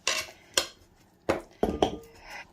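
A knife cuts a potato into wedges on a board, giving sharp, separate knocks and taps spaced irregularly, close and clear, with no talking.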